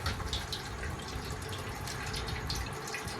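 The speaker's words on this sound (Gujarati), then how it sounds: "હવે આપણે પાણી કાઢીએ કેટલુંક નીકળે જો" Water draining out of an organic coconut into a bowl, a steady close hiss of pouring and splashing liquid that runs unbroken from start to end, with no talk.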